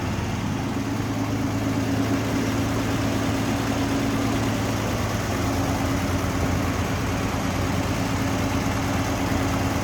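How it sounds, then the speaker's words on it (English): A restored 1948 Dodge Power Wagon B-1-PW126 truck with a 12-volt system idles steadily, its engine giving a continuous low, even rumble with a faint mechanical hum, close by and alone for the whole stretch. "Nice sounding, good running engine."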